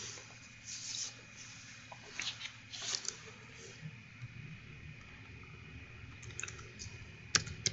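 XAML code is typed on a computer keyboard, soft irregular key clicks in scattered bursts, fairly faint over a quiet room hum, with no talking.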